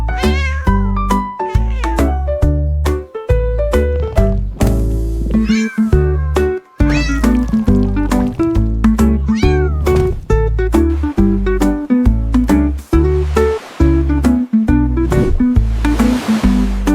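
Kittens meow through a cheerful French children's nursery song, the cat-like cries woven into a steady, loud musical backing that runs the whole way.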